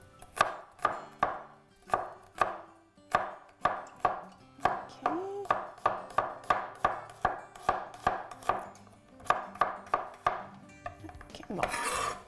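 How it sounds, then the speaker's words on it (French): Knife finely chopping ingredients for pork dumplings on a cutting board, a steady run of sharp, close, evenly spaced thuds with brief pauses, ending with a scraping clatter. "Je vais hacher vraiment finement."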